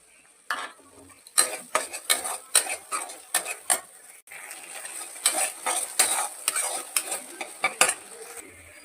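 Masala with cashew and poppy seed paste for prawn malai curry is stirred and fried in a pan, rhythmic metal spoon scrapes and knocks repeating steadily over a soft background sizzle, close up.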